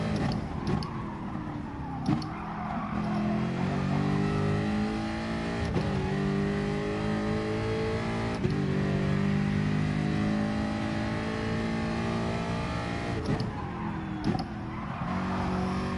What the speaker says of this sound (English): we've been totally revving the nuts right out of it